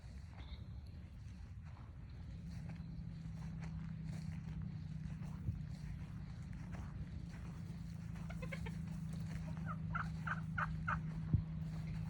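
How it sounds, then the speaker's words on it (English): Chickens cluck and gobble in scattered bursts over a steady low hum, with faint footsteps and rustling nearby. "Just some chickens."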